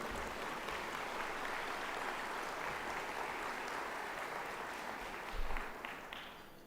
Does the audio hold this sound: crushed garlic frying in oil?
no